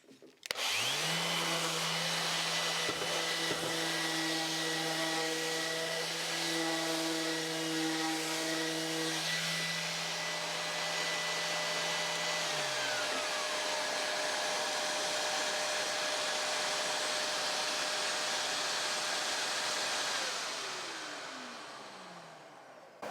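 A sharpening machine with a 120-grit abrasive runs steadily with a loud, even whir, a tonal hum at first, then a smooth drone that winds down near the end.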